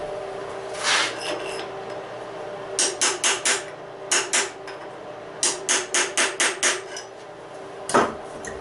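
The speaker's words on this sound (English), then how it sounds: "I'm going to tap that guard on the back and see where we end up." Metal taps ring out as a guard is hammered onto a Bowie knife tang with a pipe nipple, sharp close strikes in quick bursts of three to five, separated by short pauses.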